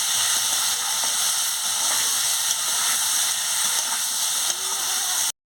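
Potatoes and pointed gourd with turmeric frying in hot oil in a pan, a steady loud hiss and sizzle throughout, with faint clinks, cutting off abruptly at the end.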